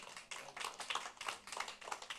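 A church congregation applauds during a Sunday afternoon worship service: a dense, steady patter of many hands clapping together, moderately distant, with no voices over it.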